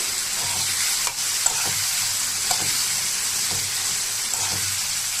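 Fish belly curry frying in a pan, stirred with a steady broadband sizzle and a few soft scrapes of the spoon against the pan, close and continuous with no talking.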